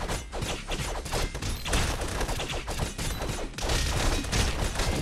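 Explosions from bombs striking the player in the cartoon brawler Castle Crashers, a dense, loud barrage of crackling blasts and impacts filling the scene almost without pause.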